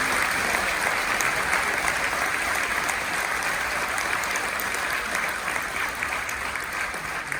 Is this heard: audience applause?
yes